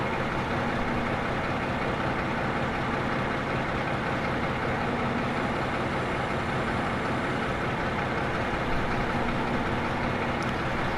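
A BR 204 diesel locomotive idles in a train simulator, a dense, steady engine drone holding at constant loudness throughout with no breaks.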